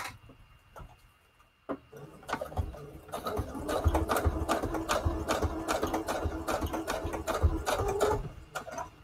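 Sewing machine running a long straight stitch starts after a quiet moment with a click and then chatters steadily with rapid regular ticking for several seconds before stopping near the end.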